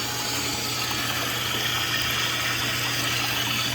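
Water rushes steadily through a low-flow test rig at roughly 35 to 40 liters per minute, a loud, continuous, even hiss with a low pump-like hum beneath it and no talking.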